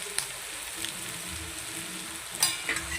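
Bottle gourd with green chillies and turmeric sautéing in a pan, a steady soft frying hiss with faint scraping stirs, plus a brief sharper clatter near the end; no talk.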